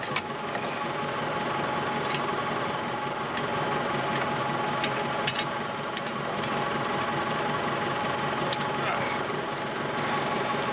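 A 130 tractor engine runs steadily and close on a hay farm, a continuous rumbling drone with rattly vibration holding level throughout, with no pauses or changes in pitch.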